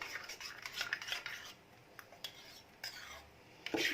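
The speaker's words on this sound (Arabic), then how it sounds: "هبدا اقلب المكون بتاعي كده" A spoon clinks and scrapes in a cup while diet sahlab drink ingredients with oats and sesame are stirred, quiet, close, irregular taps and rubs with a soft sigh of breath.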